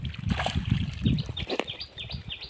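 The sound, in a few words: water flowing in from pump motor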